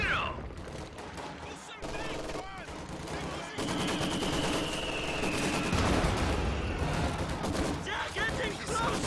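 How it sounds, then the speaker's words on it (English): Heavy and regular mortars exchanging fire in Company of Heroes 2, with repeated booming impacts and rattling machine-gun bursts in a busy battle soundscape, all under a commentator's voice. "A bit of mortars exchanging fire at the moment."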